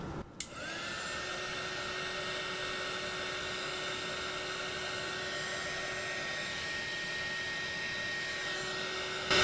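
A heat gun blows on silver glitter strips on a tumbler, giving a steady close whirring rush with a thin high whine that runs almost unbroken from start to end.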